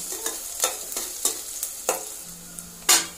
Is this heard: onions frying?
yes